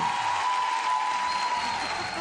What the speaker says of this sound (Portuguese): Salva de palmas para João Henrique.